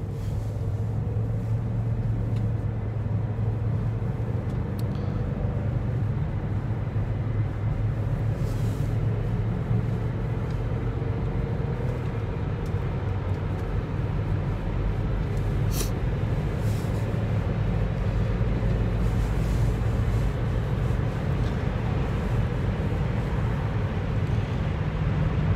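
A 2008 Range Rover with a V8 engine cruises on the freeway near 80 mph, a steady low road rumble and engine drone heard from inside the cabin, continuous and unbroken throughout.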